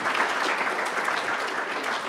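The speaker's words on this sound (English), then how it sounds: "for an old-timer like me to clap at the start of seminars" Steady audience applause at the start of a scientific seminar, a dense patter of many hands clapping continuously in a room at moderate volume, with no voices over it.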